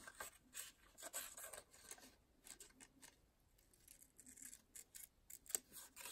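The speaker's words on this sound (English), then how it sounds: "all I did was take my scissors" Scissors snip and trim a small overhanging corner tab of a paper journaling card, giving soft, close, intermittent cutting and rustling sounds at low volume with no talking.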